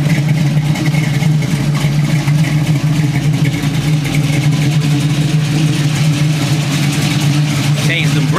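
A classic car's engine idles with a smooth, steady low rumble throughout, fairly loud and close, with muffled voices mixed in.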